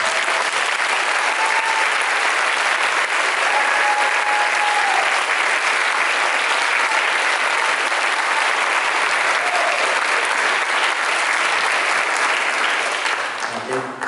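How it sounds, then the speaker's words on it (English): Sustained applause from a large crowd at a high school winter concert, dense and even, continuing without a break and fading slightly at the very end. "Give them a round of applause."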